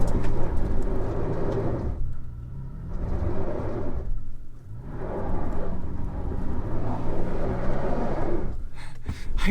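A 2022 Toyota Tacoma Trail Edition in two-wheel drive with traction control off, struggling on slippery ground, its engine surging and dropping in heavy rumbling waves with wheelspin roar and brief lulls, heard close from inside.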